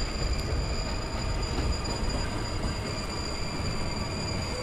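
A Mumbai slow local train brakes gradually, giving a steady, loud rumble of wheels on rails with a thin high whine sustained over it throughout.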